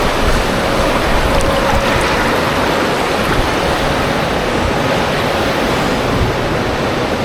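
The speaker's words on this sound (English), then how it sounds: "That lazy river does have a nice little current" Steady rushing water of the current in an indoor waterpark lazy river, a continuous broadband wash that stays loud and even throughout with no talking.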